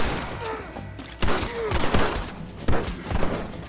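Gunfire in the video game Red Dead Redemption comes in scattered volleys of sharp cracks, with a couple of louder close shots standing out, while voices talk over the action.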